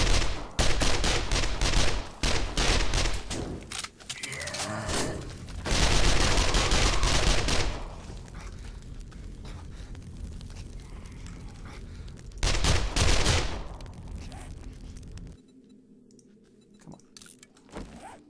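Gunfire in the video game 7 Days to Die, BorderlandZ mod: loud sustained volleys of shots in several bursts, with quieter stretches between and a near-silent tail.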